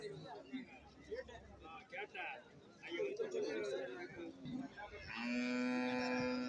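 People chatter and talk in a busy outdoor crowd at a cattle market, then a buffalo gives a long, loud, low moo close by near the end.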